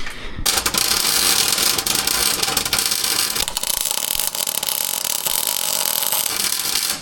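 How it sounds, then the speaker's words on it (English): Welding on 2x4 square tubing brackets for a truck produces a steady, close, crackling hiss with scattered sharp pops. It starts abruptly and continues without stopping. "Heavy T's welding these bad boys in."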